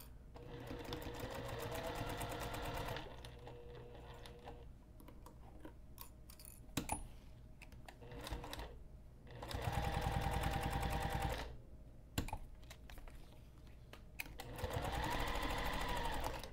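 A sewing machine stitching along a bag edge at a regular 2.5 mm stitch length, running in three distinct bursts of rapid, even needle chatter separated by quiet pauses with small clicks and handling noises, close and fairly soft.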